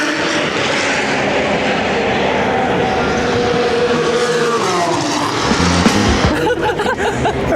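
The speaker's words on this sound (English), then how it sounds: "right now it says the Formula 3 sprint race is ongoing" Formula 3 race cars roar past during a sprint race at Monza, a loud, continuous engine wail with rising and falling pitch as cars pass, dense and sustained throughout with crowd ambience beneath.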